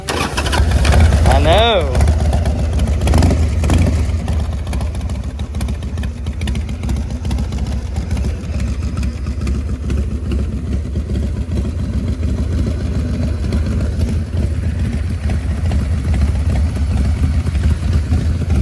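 A $300 used motorcycle cranks and starts, then its engine runs in a steady rumble on a test ride. People talk over it.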